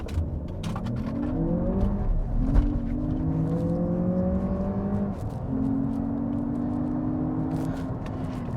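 A 2023 Lexus RX500h F Sport hybrid in sport mode launches hard from a standstill, engine tone climbing steadily through several rising pitch sweeps with shifts between them, heard from inside the cabin at a moderate, even level.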